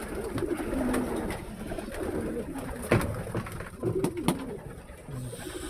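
Pigeons cooing in a loft aviary before feeding, soft overlapping coos from several birds close by over a constant rustling background, with occasional sharper clicks and flutters.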